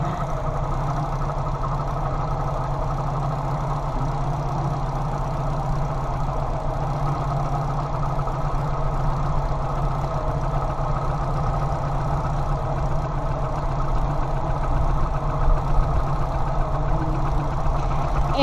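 A 1987 Suzuki Samurai engine idles roughly and misfires, a steady low rumble with an uneven, stumbling beat, heard close and without speech.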